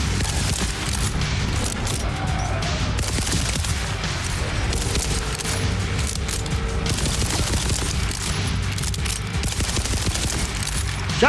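Dense, continuous gunfire and booming blasts from the shooter video game Borderlands 4, with rapid shots and heavy impacts layered densely throughout without a break.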